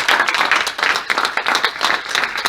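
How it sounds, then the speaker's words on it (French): A room full of people applauding at a presentation on modular, relocatable housing, dense and fairly loud clapping that continues steadily without a break, no voices over it. "Je vous propose de les applaudir parce que vraiment ils se sont prêtés au jeu."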